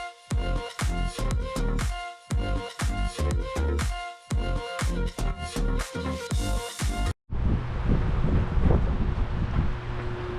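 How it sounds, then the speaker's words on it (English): Strong wind buffets outdoors on a freezing day at about twenty miles an hour, roaring steadily with gusty fluctuations, loud and close at the microphone. "it's 20 degrees outside, 20-mile-an-hour wind"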